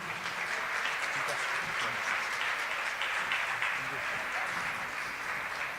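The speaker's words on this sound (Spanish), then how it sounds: "Los recibimos con un fuerte aplauso a los arquitectos de Plural Arquitectos." Steady crowd applause at an international architecture event in Argentina welcoming a firm of architects, dense even clapping that holds at moderate loudness without break.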